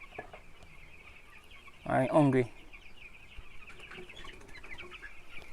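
Chickens in a fowl coop on a Jamaican poultry farm give a short burst of loud clucking and squawking in the middle, set against steady background hum, with a few spoken words nearby.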